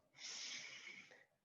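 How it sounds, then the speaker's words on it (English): A single slow inhalation during an aikido breathing exercise, soft and airy, swelling over about a second and then fading, close by in an otherwise quiet room. "Breathing in"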